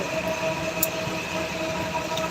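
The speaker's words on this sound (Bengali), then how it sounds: "ক্রসিংয়ের জন্য ট্রেনটা থামাচ্ছে" A passenger train on the Bangladesh railway between Airport and Kamalapur slows for a crossing. Its steady, moderately loud rolling rumble carries a faint wheel squeal and no voices.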